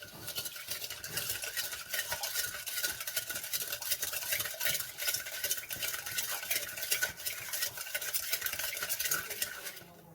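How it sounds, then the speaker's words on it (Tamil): Colostrum milk mixture with sugar being stirred steadily for a sweet kadumbu, the spoon scraping and swishing in continuous rhythmic strokes at close range with no talking. "சர்க்கரை கரையிற வரையும் நல்லா மிக்ஸ் பண்ணணும்"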